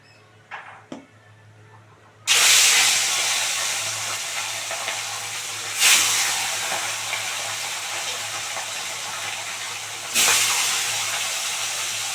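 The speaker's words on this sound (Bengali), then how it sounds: "এবারে মাছগুলো দিয়ে দেবো একটা একটা করে মাছগুলো ভালো করে ভেজে নেবো" Rui fish dropped into hot oil burst into loud sizzling, three pieces in turn, each surge settling into a steady crackling hiss.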